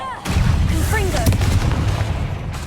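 Confringo blasting spell going off in Hogwarts Legacy, a loud burst of fiery crackling blasts and booms that runs almost the whole moment, with swooping magical whistles layered over it.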